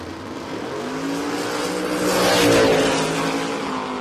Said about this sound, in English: This time it's wheel spin for William.